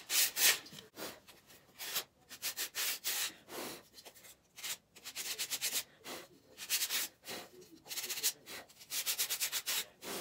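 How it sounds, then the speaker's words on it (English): Sanding a wooden table-saw insert by hand: rough, rhythmic scratchy strokes in bursts with short pauses, close up and fairly loud, no speech. "I'm gonna start by sanding it because it looks like it's a little rough."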